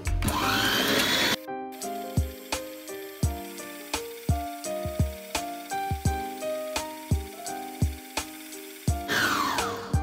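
Mixer combining condensed milk and other ingredients for strawberry cheesecake ice cream, running loud and close at the start and end, with a series of rhythmic knocking taps in the quieter middle stretch.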